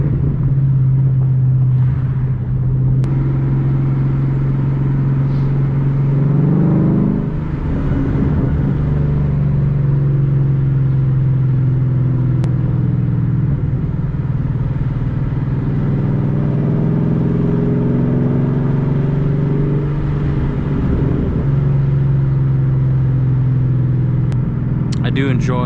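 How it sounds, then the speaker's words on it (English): A Mustang GT s197 with the 5.0 Coyote V8 rumbles and revs during a second-gear rolling burnout, the loud engine drone rising and falling steadily throughout while people talk over it. "I do enjoy doing a second gear rolling burnout."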